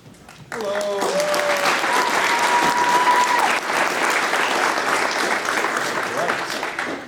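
Enthusiastic audience applause at a Missoula Children's Theater performance of Jack and the Beanstalk, starting abruptly and holding steady and full for several seconds, with a few voices and whoops mixed in.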